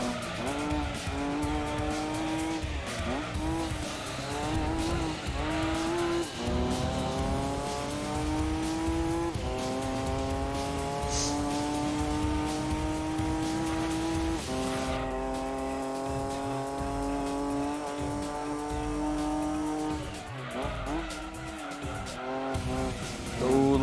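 Nissan Skyline of about 390 horsepower in the Gran Turismo 2 video game, its engine droning and rising through gears as tires squeal and skid in long stretches while the back end slides out.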